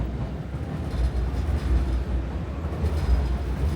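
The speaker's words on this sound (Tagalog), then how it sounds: "Oh, look at the train, Chobs." A train passes near a station on arrival in Osaka, making a steady, loud, low rumble that holds evenly throughout with no voices over it.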